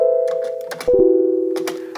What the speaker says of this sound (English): And then I also got this bell sound.